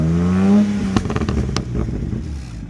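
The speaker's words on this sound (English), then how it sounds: "Now we're upping them to the hard and the most aggressive burbles possible on this." BMW B58 engine on its hard, most aggressive burble setting: a falling rev drone gives way to a rapid string of sharp exhaust pops and crackles on overrun, loud and close.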